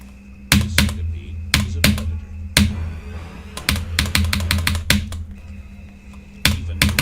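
A computer keyboard played as a game controller, its keys struck in quick irregular bursts of sharp clicks, close and fairly loud against a faint steady hum.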